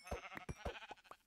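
Sheep in the video game Minecraft bleat in a quick series of several short, close calls, each a brief bleat following rapidly on the last, fairly quiet against a clean background.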